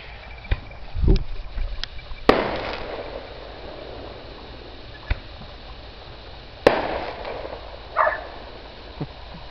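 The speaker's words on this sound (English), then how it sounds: "a number of people are shooting off their fireworks" Scattered Fourth of July firework bangs and pops at a distance in rural Western New York, several sharp cracks spaced irregularly with a couple of louder booms echoing against steady outdoor background noise.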